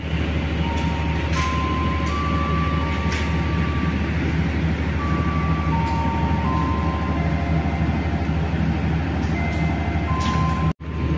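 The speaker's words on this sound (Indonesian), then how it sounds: "Perjalanan saya bersama kereta api Blambangan" Steady loud rumble of a moving Blambangan passenger train in Java with a constant low drone and scattered faint tones and clicks, no voices.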